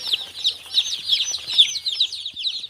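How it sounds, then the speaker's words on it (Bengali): Busy high-pitched cheeping from a group of three-day-old chicks feeding alongside hens, steady overlapping peeps throughout with faint soft clucks and scratching, no talking. "আমরা মুরগিকে খাবার দিয়ে দিছি বাচ্চাগুলো ঘোরাফেরা করছে"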